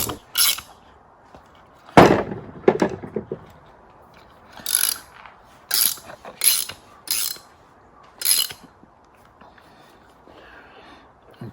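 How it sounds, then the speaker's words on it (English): A bushing is pulled into a Ford Model A distributor with a tightening tool, producing a series of sharp ratcheting clicks and metallic clanks in separate bursts, close and fairly loud against a quiet background. "It's going to suck that bushing right in."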